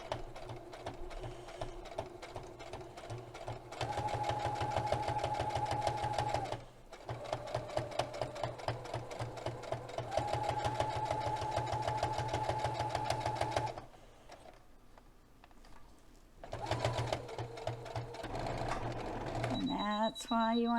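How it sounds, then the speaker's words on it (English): A sewing machine stitches a fabric potholder in several steady, loud runs, broken by short pauses where the needle stops and the work is turned, with a voice talking in between. "So go into your corner, down your needle, make your turn, and start again."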